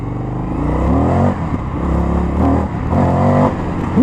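An Indian FTR 1200 motorcycle fitted with an Akrapovic exhaust accelerates hard on the road, its loud engine rising in pitch through several rev surges with short dips between, recorded close from the rider's position and heard alone.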